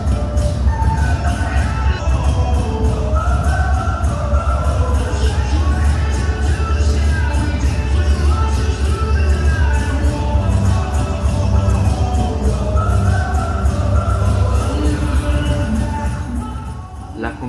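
Large crowd filling the stands at a regional rhythmic gymnastics competition in Cuneo, a dense continuous murmur of chatter and shuffling with faint cheers, loud and steady throughout.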